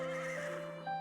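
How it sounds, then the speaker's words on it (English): A horse neighs in a visual novel game, a loud close whinny with a steady ringing tone that shifts near the end, heard alone without speech. "It was somehow similar to the sound of a neighing horse."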